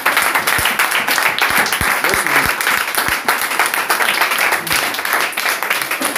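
A church congregation applauds for the Lord, a loud, sustained wash of clapping from many hands filling the room, with a few voices mixed in beneath it.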